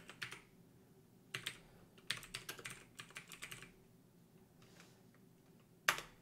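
Keys clacking on a computer keyboard as a sudo command is entered on Ubuntu, in several quick bursts of clicks separated by short pauses, ending with a sharper final keystroke.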